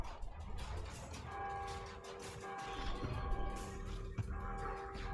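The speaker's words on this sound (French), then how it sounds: "Sonnez la cloche!" A church bell rings in Warhammer Vermintide 2, its long sustained tones layered over a dense rumbling game soundscape across several seconds.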